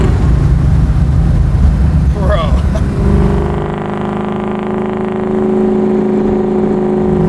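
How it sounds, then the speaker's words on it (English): A supercharged Chevy Camaro pro-touring build revs with quick throttle blips, a rising engine snarl that settles into a loud, steady idle drone. Someone talks briefly over it, close to the car. "I love how responsive the throttle is, like for blipping it like that"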